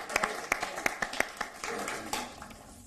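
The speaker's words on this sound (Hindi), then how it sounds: "एक बार जोरदार तालियों प्रीति विश्वास जी के लिए" Audience at a Hindi poetry recital (kavi sammelan) clapping for a woman poet, sparse separate claps in a loose rhythm, fairly near and moderately loud, fading toward the end with no voices over it.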